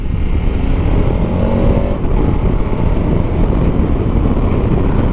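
A 2021 KTM 1290 Super Adventure S motorcycle engine runs at a steady, loud drone, close and constant with heavy low rumble and wind-like roar throughout.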